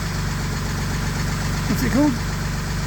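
A Jaguar AJ30 VVT engine, its variable valve timing controlled by an Arduino, idles with a steady low rumble while someone talks briefly over it.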